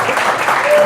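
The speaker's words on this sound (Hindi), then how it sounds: "ताली बजनी चाहिए इस बात के लिए।" A church congregation at a sermon applauds, a loud, close burst of dense clapping that fills the brief moment.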